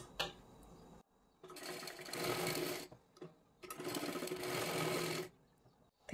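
A sewing machine stitches a blouse in two sustained runs of steady whirring, close and clear, separated by short pauses with light handling clicks and no speech.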